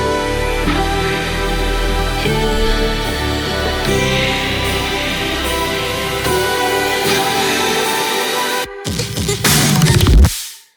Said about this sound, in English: That's the build-up and the pre-drop fill with the kicks here.